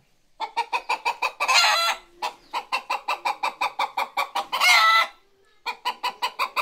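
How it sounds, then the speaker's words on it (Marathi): Free-range village hen and rooster cluck in quick rhythmic runs of short, close calls. Two louder, harsher squawking bursts break in between the runs, with no voices over them. "कोंबडी बसली अंड्यावर, तो कोंबडा बसला तिच्या बाजूला"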